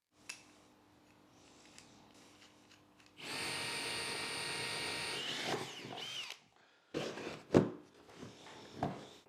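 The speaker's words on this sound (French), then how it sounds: "je percerai un trou plus grand adapté à mon tuyau d'aspiration." A power drill whirs steadily for a few seconds, drilling a larger hole sized for a vacuum hose, then winds down; a few knocks and handling clatters follow.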